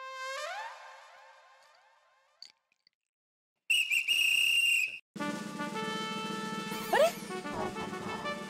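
In a comedy show's housing-society courtyard, an older man blows a whistle in a single loud, shrill blast lasting about a second, set between stretches of tonal sound effects and music.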